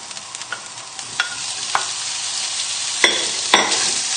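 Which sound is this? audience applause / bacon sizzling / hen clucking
bacon sizzling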